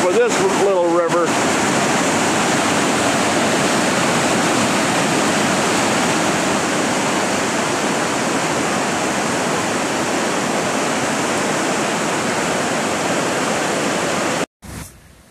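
Foster Falls and its small river, swollen by six inches of heavy rain, roar as a loud, continuous wash of rushing water, close and unbroken, with a brief rustle at the start and a sudden cut near the end.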